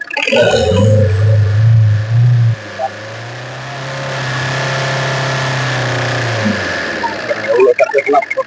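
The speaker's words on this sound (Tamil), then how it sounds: "இப்போ இதனோட இன்ஜின் கண்டிஷன் எப்படி இருக்குன்னு செக் பண்ணிடும்" A car engine idles with a steady low rumble close by after a few revs at the start, and voices talk over it near the end.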